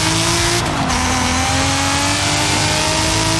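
A NASCAR stock car set up as a drag car in Forza Horizon 5 roars steadily at full throttle off the launch, the loud engine note continuous and close throughout, with a brief burst of hiss near the start.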